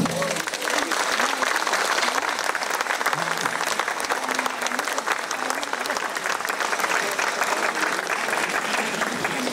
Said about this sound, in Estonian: see vajab aplausi